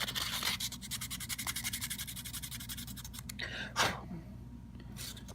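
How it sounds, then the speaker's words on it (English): Sanding twig scrubbing a mold line off a small plastic model part, quick rhythmic back-and-forth rasping strokes close up, followed by a pause and a few brief scratchy rubs. "take one of your sanding twigs, whatever grit you want to use. You sand it until the mold line's gone."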